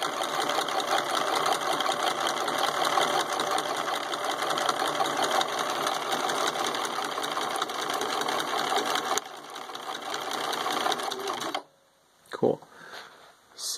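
Husqvarna Viking 6570 sewing machine stitching a zigzag pattern, a steady, fast mechanical whirring hum running close and continuous for about eleven seconds before stopping, followed by brief clicks.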